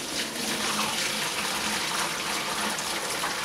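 Homemade fruit brew poured through a large colander into a bucket, making a steady, continuous gushing splash of liquid at close range with no talking.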